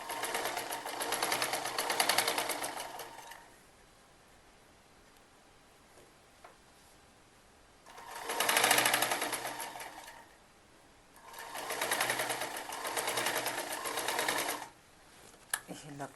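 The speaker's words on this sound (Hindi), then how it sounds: "ये लग चुकी गले में सिलाई" A sewing machine stitches the neckline of a kurti in three loud bursts of rapid stitching, separated by pauses with low talk between runs.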